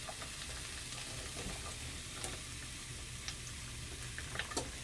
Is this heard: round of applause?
no